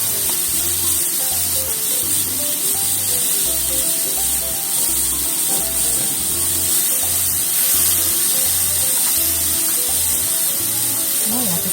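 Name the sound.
apples and blueberries frying in pan over medium heat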